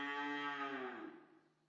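Cattle in a shed on a beef cattle farm in Fengdu, Chongqing, let out a single long, deep moo that fades away, heard alone and fairly close.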